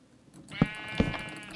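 Goat bleats in Minecraft, two short bleats about a third of a second apart, fairly clear over a quiet game background.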